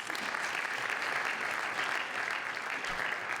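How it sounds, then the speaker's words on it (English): A crowd applauds steadily and continuously at a National African American Read-In Day event, the clapping dense and even throughout without any speech. "Let's give him another round of applause"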